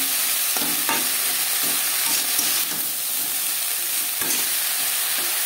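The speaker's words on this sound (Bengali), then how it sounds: "লবণ, হলুদ ও আদা বাটা, কাঁচা লঙ্কা বাটা ব্রকলির সাথে বেশ ভালো করে মিক্স করে দেবো" Broccoli is being mixed with salt, turmeric, ginger paste and green chilli paste and lightly fried in a pan. It gives a steady close sizzle with scattered stirring scrapes and clinks, and no one talks.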